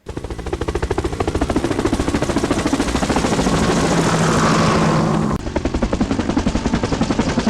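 A toy helicopter sound effect plays loudly and continuously, a rapid chopping rotor pulse that briefly swells before cutting and resuming.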